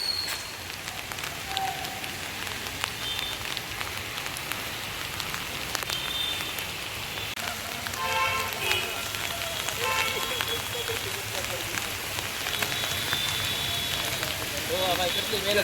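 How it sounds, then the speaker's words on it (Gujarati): Heavy rain falls steadily outdoors in Junagadh, a dense constant hiss throughout, with voices talking and some brief tonal sounds over it partway through. "વરસાદ છે ચાલુ ફૂલ"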